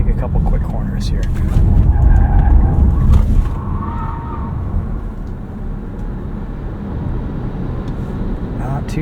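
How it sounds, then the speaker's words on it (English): Low, steady road and tire rumble inside a 2026 Nissan Leaf on 19-inch wheels, taken through quick corners in sport mode. A faint tonal whine rises briefly midway, and the drone stays fairly even throughout. "Let's go back into sport mode and take a couple quick corners here."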